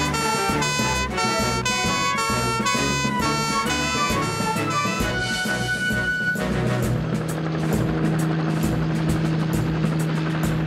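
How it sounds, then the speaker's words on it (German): A cartoon helicopter from a children's fire-rescue show starts up after a musical jingle, its steady rotor whir building and continuing loud and close with no talk over it. "Wirf den Hubschrauber an, Tom."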